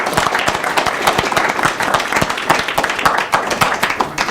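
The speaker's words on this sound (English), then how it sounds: "Let's give them a big applause to welcome them to CSUN." Loud, close applause greets guests at a university discussion event on campus, with crisp individual claps rattling densely and evenly from a sizable crowd throughout.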